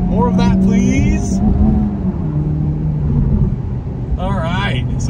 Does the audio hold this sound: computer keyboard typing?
no